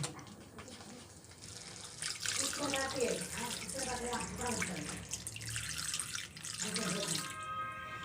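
Water poured from a vessel into cashew-poppy seed paste cooking for a Bengali fish gravy, a steady splashing trickle for several seconds, then a second shorter pour.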